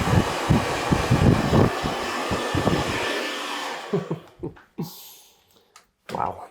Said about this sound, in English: I'm going to dry this off in the growth direction